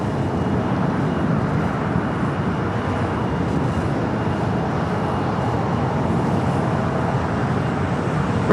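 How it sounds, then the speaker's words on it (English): A Boeing Dreamliner taxiing toward the Tom Bradley gates at LAX, a steady, broad jet engine roar that holds at an even level throughout, with no voices. "the Dreamliner, makes that turn heading in to the gates of Tom Bradley"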